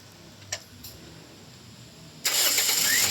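A Toyota Yaris engine cranks with a couple of brief clicks, then starts suddenly and settles into a loud, steady run heard up close.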